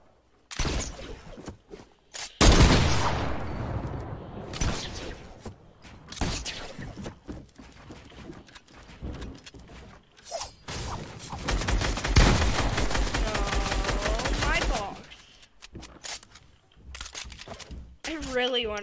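Gunfire in a shooter video game, with repeated shots and rapid bursts spread across the stretch, some loud and close. A player talks now and then between the volleys.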